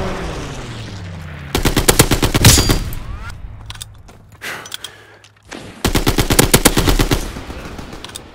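Video game strafing run during an airship domination match: two loud bursts of rapid machine-gun fire, the second after a lull, with faint scattered shots and a low rumble between them.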